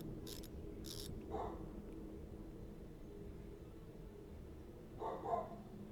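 A dog barks in two short, faint bursts separated by several seconds, set against a steady low background hum.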